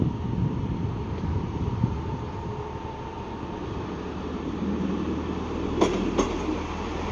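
A Class 158 diesel multiple-unit train at Shrewsbury station, with the steady diesel rumble of the train close by for several seconds, buffeted by wind, and a couple of brief clanks near the end.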